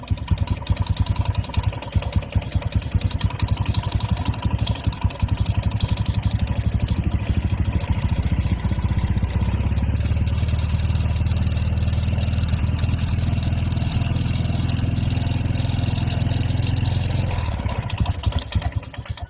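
Motorcycle engine with an automatic centrifugal clutch, first idling with a rattly clatter, then revved up into a louder, steady, deeper roar held for several seconds before settling back down, close and continuous.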